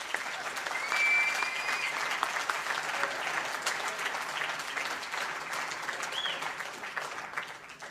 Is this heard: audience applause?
yes